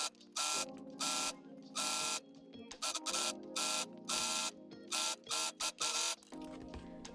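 A serger sews along the neckline edge of stretch knit jersey in about a dozen short loud bursts of rapid whirring, separated by brief pauses and quieter clicks.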